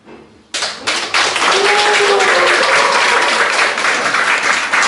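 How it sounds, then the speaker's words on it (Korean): Audience applause breaks out suddenly after a lecture, dense crowd clapping that swells quickly and stays loud and sustained to the end. "다시 한번 큰 박수 부탁합니다."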